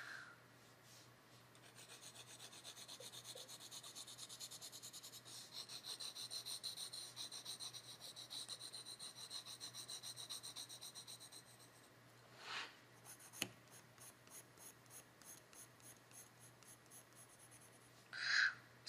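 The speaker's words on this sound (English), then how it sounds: "So take your time on coloring this as a base." Colored pencils rubbing over paper while shading a base coat on an anime armor drawing, a steady close scratchy rasp in long continuous strokes, then shorter separate strokes with a few sharper taps, no voices.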